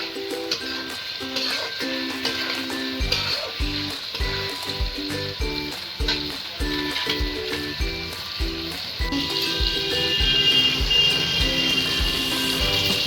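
Chicken curry sizzles in a pan as water is added, a continuous loud hiss that swells and brightens, with periodic rhythmic scraping strokes of stirring and steady background tones underneath.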